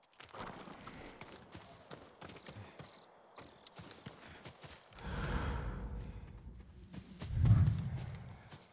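Hooves of a farm horse in Ghost of Tsushima clop softly alongside faint creaks and shuffling, with a louder thump and low rumble toward the end.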